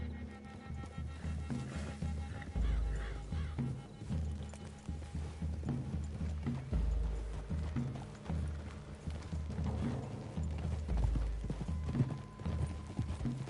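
Horses' hooves clip-clop steadily through a wooded clearing in the video game Red Dead Redemption 2, a moderately loud rhythmic plodding over low ambient rumble.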